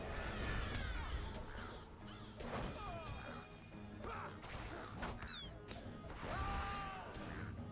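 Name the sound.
bird cawing in video game Lord of the Rings Online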